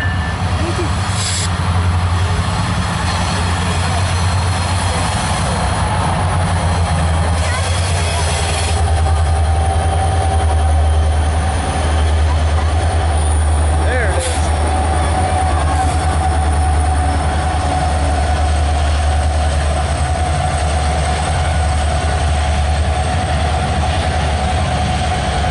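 Norfolk Southern eastbound freight train passing close by, a loud continuous rumble of wheels and railcars with a steady engine drone and faint rail clatter for the whole stretch.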